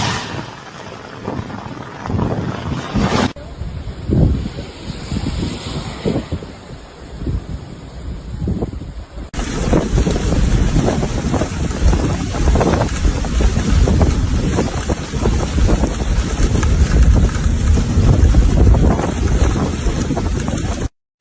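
Heavy rain and strong wind in Wadi Al Ain, Oman: a loud, continuous rushing roar with gusts buffeting the microphone, growing denser and louder partway through.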